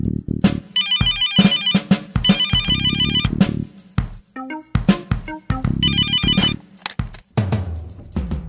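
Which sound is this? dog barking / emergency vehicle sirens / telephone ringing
telephone ringing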